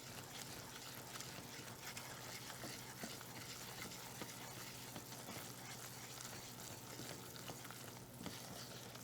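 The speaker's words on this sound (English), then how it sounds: "You cook it in the butter a little bit to help it thicken, as well as reduce the floury taste" Flour roux cooking in butter in a pan for a chicken pot pie, giving a steady, continuous soft sizzle and faint crackle throughout, fairly quiet and close, with no talking.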